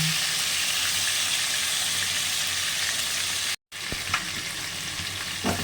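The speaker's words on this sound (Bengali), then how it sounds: "চিংড়ি মাছগুলো হালকা করে ফ্রাই করে বেশি ভাজবো না ভাজলে শক্ত হয়ে যাবে হালকা ভাজবো" Shrimp lightly frying in oil for a kochu pata prawn dish, a steady close sizzle that runs on, briefly cut off by a short gap, then resumes with a few scrapes from stirring.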